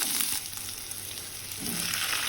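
Garlic cloves and curry leaves sizzle steadily in a hot pan for a vegetarian banana-flower fish-style kuzhambu, a continuous close frying hiss with a brief stirring scrape near the start and another toward the end, no voices.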